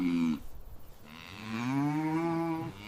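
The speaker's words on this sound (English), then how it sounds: "Here come the cows." Cows moo on a farm, one low call followed by a longer, drawn-out moo in a quiet setting.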